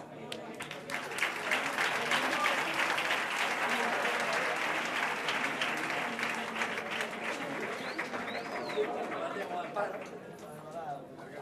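A carnival audience claps during a beauty pageant-style evening gown parade, broad applause mixed with crowd chatter and a few voices, fairly distant and sustained throughout.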